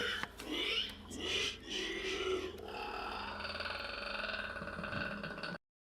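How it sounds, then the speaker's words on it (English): A harsh, guttural animal squeal and grunting, loud and close, with rough pig-like bursts early on fading into a steady drone. "Something inside lets out a guttural squeal similar to a wild boar."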